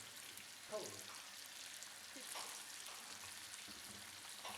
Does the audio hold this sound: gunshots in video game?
no